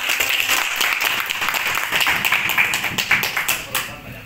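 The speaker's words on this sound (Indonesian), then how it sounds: "Tepukan paling gemuruh." Loud applause from the audience at a teachers' management and leadership course in Sabah, dense clapping that swells and carries on with some sharper, distinct claps near the end.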